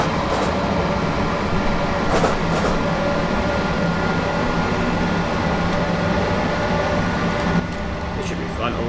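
In Train Simulator 2018, a Class 365 electric train runs on the Brighton to Cambridge route with a steady, loud rolling rumble and a constant droning hum, faint clicks over the rails, and no break throughout.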